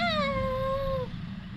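A single drawn-out cat meow from the video game Grand Theft Auto V, close and clear, falling slightly in pitch and lasting about a second over low game background noise.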